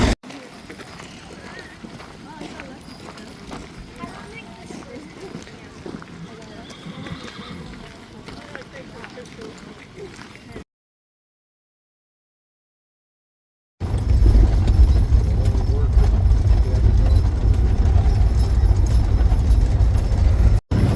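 Wagon train team horses walking, hooves clip-clopping with an occasional whinny, moderately close, then after a brief silence a louder stretch of hoof and harness noise.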